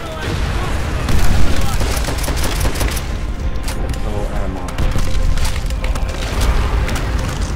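Grenade and weapons fire in Call of Duty: World at War, a loud, continuous battle din of booming blasts and rapid gunfire with splintering debris, dense and close throughout, with voices shouting underneath.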